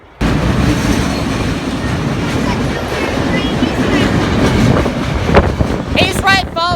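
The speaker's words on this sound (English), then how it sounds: "we got a military train on the fly" A military train rolls past nearby, loud rumbling wheels and clattering cars sustained throughout with wind buffeting the microphone and a brief squeal near the end.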